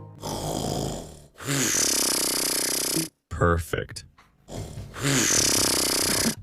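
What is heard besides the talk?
polar bear snoring in a video game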